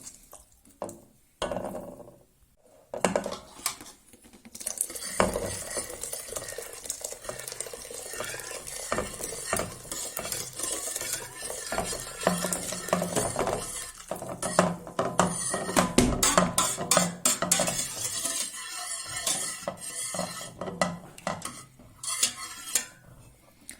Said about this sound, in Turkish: Suyunu şu şekilde ekledim. Çorbamız kaynayıncaya kadar sürekli karıştırıyoruz.